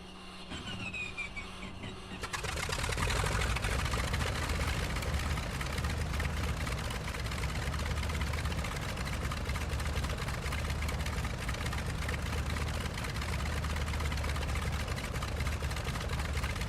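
A Focke-Wulf Fw 190 A-5 fighter's piston engine starts after about two seconds of whine and clicks, catches, and settles into a loud, steady, rumbling idle that runs on without pause.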